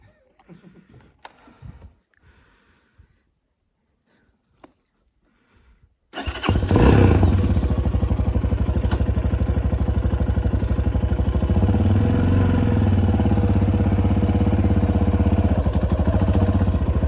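After some quiet clicks and handling noises, a Spark SP300T-1 motorcycle engine fires up loudly and keeps running with a steady, throbbing close-up rumble.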